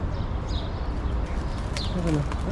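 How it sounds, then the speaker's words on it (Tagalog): Birds scuffle outdoors, giving faint scattered chirps and soft cooing calls over a steady rumbling background, with no clear voices. "May nagsasabong pa na ibon, oh."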